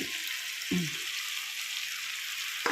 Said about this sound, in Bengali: লঙ্কা গুঁড়ো দেওয়ার পর বেশি বেশ খানিক্ষণ ধরে ভাজতে হবে পেঁয়াজের জল বেরিয়ে যাবে